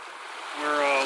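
Nez Perce Creek rushes steadily near a highway, a close, full, continuous flow of water with a faint tonal hum appearing toward the end.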